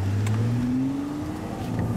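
Nissan GT-R V-Spec and Lamborghini Gallardo Balboni racing, with a loud, steady engine drone that rises in pitch as the cars accelerate, with no talk.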